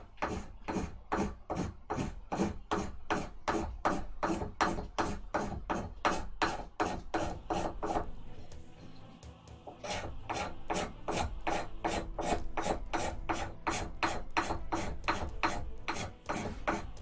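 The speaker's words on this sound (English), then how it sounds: "I used the scraper" Metal scraper rasping steadily over a painted concrete owl statue in fast, regular strokes, close and continuous, with a brief slowdown midway before the rhythmic scraping resumes.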